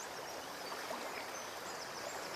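A stream flows in a dipper's habitat, making a soft, steady hiss of running water that is faint and continuous.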